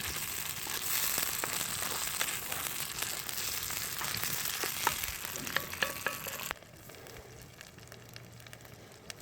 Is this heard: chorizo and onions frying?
yes